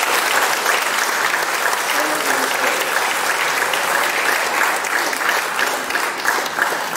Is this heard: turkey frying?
no